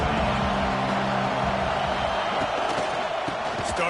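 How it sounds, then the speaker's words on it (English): Stadium crowd roaring at a football game in Husky Stadium, a dense continuous wall of noise, loud and steady throughout, with scattered cheers inside the roar. "Listen to this crowd just shaking the girders of this place, trying to help their defense."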